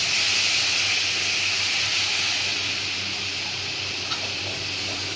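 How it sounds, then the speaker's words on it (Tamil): Steady sizzling hiss of water sprinkled into a hot pan of frying broad beans seasoned with turmeric and coriander powder, a continuous close steam-like rush with no talk. "தண்ணி கொஞ்சமாக தெளிச்சு"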